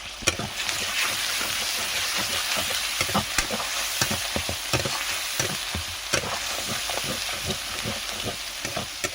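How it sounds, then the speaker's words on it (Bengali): Panch phoron and cumin powder fry in a pan with a loud, continuous sizzle, while frequent scraping strokes of a spatula stir the spices close by. "ভালোভাবে মশলা কষানো হয়ে গেছে"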